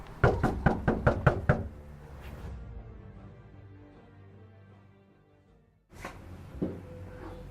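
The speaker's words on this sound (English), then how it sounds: "He knocks the door of the house." Knuckles rap on a house door in a rapid series of about seven loud knocks, then a faint hum follows, and a creak and thud arrive near the end.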